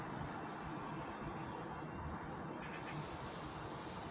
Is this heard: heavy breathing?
no